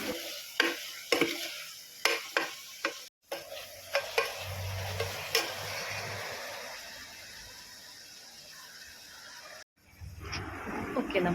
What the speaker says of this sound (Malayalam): നമുക്കിത് നല്ലോണം ഒന്ന് വഴറ്റിയെടുക്കാം.